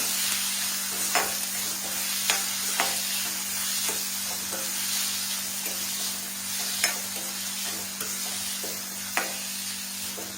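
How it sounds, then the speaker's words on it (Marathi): Onion and tomato frying together in a pan for a Maharashtrian potato bhaji, a constant loud sizzle punctuated by regular scrapes and taps of a stirring spoon, close up with no talking. "आता त्याच्यामध्ये आपण कांदा घालूया आणि सोबत टोमॅटो एकत्र सर्व भाजून घेऊया।"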